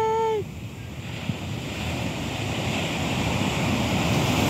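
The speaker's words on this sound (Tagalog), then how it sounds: "Yan, may malaking alon!" Surf breaking on the shore at Barceloneta beach in Barcelona, Spain, a steady broad wash of waves with wind buffeting the microphone, after a brief high tone at the start.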